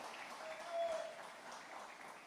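A church congregation applauds during a worship service, with dense, steady clapping held at an even level throughout and a faint sustained tone above it.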